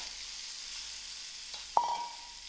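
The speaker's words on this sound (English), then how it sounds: "To the same pan, I'm going to add in my mushroom to give it a quick fry." Mushrooms frying in a pan, a faint even sizzle broken by a single sharp metallic clink that rings briefly, quiet and without talk.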